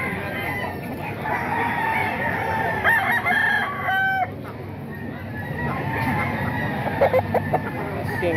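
A rooster crows at a chicken market amid a busy outdoor background, with other chickens clucking and faint voices nearby; the crow rises and holds in a drawn-out call.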